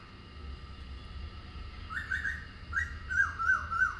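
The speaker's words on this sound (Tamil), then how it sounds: "குருவி திருப்பி கத்திக்கிட்டே இருக்குதே" A sparrow chirps repeatedly in bright, whistled bursts that begin partway through and keep coming over a low steady hum.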